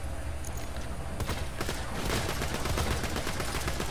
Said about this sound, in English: I get out my sniper, I shoot off its arms